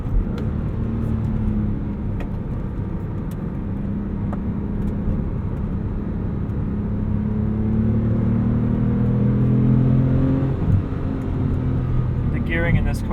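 A 2008 Porsche 911 Carrera on summer tires accelerates through long gearing, its engine note rising in a steady, sustained climb of growling whir heard from inside the car, with a voice talking over it.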